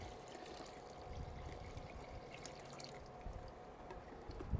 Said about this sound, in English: We are going to add in another 3 liters of water to dilute our